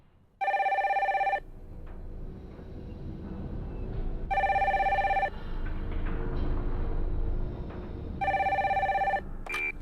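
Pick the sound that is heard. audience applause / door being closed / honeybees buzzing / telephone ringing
telephone ringing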